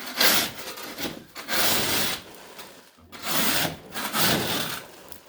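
A drywall knife scrapes a textured ceiling in four long, loud rasping strokes separated by brief pauses, with no talking.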